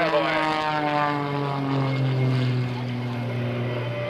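Patty Wagstaff's aerobatic propeller airplane performing a torque roll at the 2002 NAS Oceana Airshow, its engine a loud, steady drone with a shifting pitch throughout.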